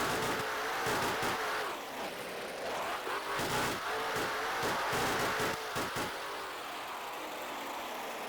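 A damaged, smoking Monster Jam monster truck engine drones and sputters continuously in an arena, a strained mid-pitched roar with uneven revs and crowd noise.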